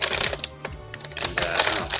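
Unboxing a figurine shipped from Japan, with a dense run of crinkly plastic and cardboard rustling, tearing and tapping, close and fairly loud throughout, with no talking.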